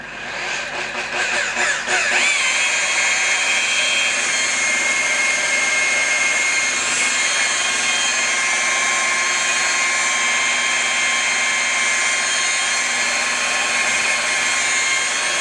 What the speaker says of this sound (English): I'm going to hit those real quick with that wool buffer